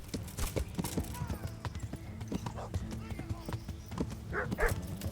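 Dog barking during combat in Kingdom Come: Deliverance, sharp repeated barks scattered among hoof clip-clops and other game noise, with someone talking over it.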